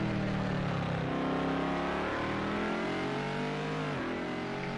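Race cars in the video game Project Cars 2, during a four-hour endurance race at Spa with Corvettes and Fords, give a loud continuous engine roar with layered revving tones and a sharp pitch dip near the end.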